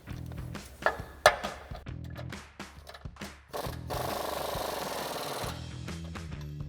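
Metallic clicks and ratcheting while a 19mm wrench and socket tighten a suspension bolt and nut on a 4WD Toyota 4Runner during a Rough Country 2-inch spacer lift install, close and fairly quiet with a sustained whirring stretch midway.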